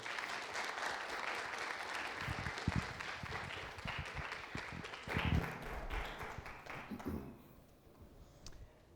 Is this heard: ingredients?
no